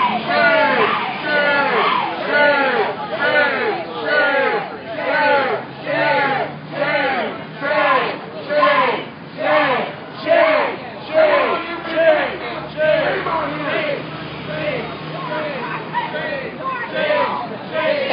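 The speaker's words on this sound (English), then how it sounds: "Crowd chanting shame at the feds." A crowd of protesters chants a single word in loud, rhythmic unison at federal agents during a DEA, IRS and US Marshals raid in Oakland, the repeated shouts pulsing roughly once per second for the whole stretch.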